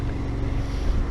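A BMW GS motorcycle engine gives a brief, low, rumbling drone mixed with wind buffeting, heard close and steady for about a second.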